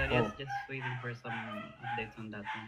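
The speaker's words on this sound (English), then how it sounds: "That's my dog." A dog barks and whimpers in short yelping bursts from somewhere nearby, breaking in over a person who keeps talking through the noise.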